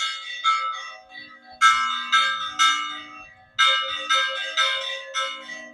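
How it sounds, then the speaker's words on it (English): Church bells ring from a village church to announce the start of the fiesta, a steady sequence of loud, resonant strikes with long ringing decay, alone without voices. "The lady that is busy ringing the bells to tell the whole village that the fiesta is about to start."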